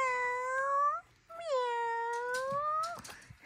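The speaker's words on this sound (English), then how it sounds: "It's a kitty cat. Meow." A cat meow from a farm animal sound book: two long, clear, rising-and-falling meows, the second drawn out longer, played loud and close.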